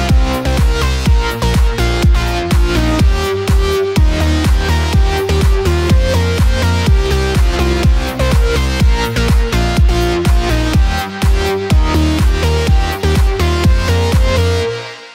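A full electronic track made in FL Studio: synth lead melody layered over pad chords, deep bass and steady drum hits, loud and dense throughout.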